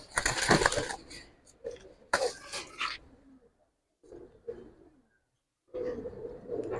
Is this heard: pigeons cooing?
yes